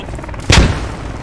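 A grenade goes off in the tactical shooter Squad on the Yehorivka map, a single sharp blast with a brief rumbling tail, loud and close, with nothing else around it.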